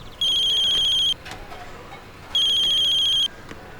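A telephone rings in two electronic bursts, loud and close, with a short quiet gap between rings.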